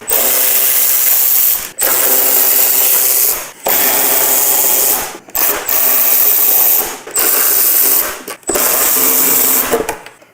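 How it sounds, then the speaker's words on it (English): A power driver fitted with a Torx 30 bit backs out the headlight bolts on a 2023.5-plus Road Glide inner fairing. Five or six loud, close whirring bursts of a few seconds each are separated by brief pauses, with no talking. "we've got 6 bolts to remove our headlight"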